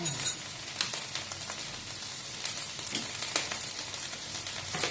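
Soup of mixed vegetables in a pot, Thai chap chai style, bubbling and hissing steadily at a rolling simmer, close and continuous with faint crackles throughout.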